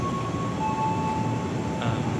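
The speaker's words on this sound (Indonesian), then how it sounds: "Kita nanti mau nonton kereta yang melintas di stasiun Kranji" A train passes through Kranji station, heard from the platform as a steady, continuous rumble with a faint sustained tonal whine over it.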